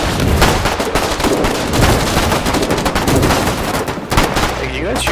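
Dense, loud gunfire from a video game runs nonstop, a clatter of rapid shots and bursts with a brief lull near the end.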